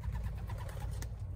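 Pigeons in a loft coo in a low, steady, murmuring layer that runs throughout, fairly close and with no talk.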